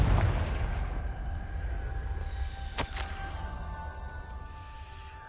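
A fiery Confringo spell explodes in Hogwarts Legacy as one sharp, loud burst partway through, set against a steady rumbling game backdrop with no talk.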